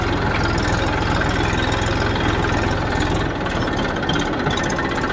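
A Mahindra 1035 farm tractor's diesel engine runs loud and steady with a throbbing low idle and a heavy rhythmic chug on a steep downhill slope, with no talk over it.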